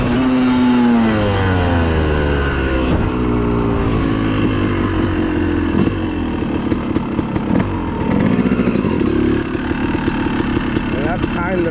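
A 250 motorcycle engine revving loud and close during a slow wheelie, its pitch rising and falling with throttle blips and gear changes, a rider's voice talking over the engine noise.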